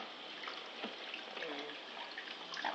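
A small child washes a rag in a basin of water, making soft sloshing and trickling splashes. The sound is quiet and close, with light handling noises throughout.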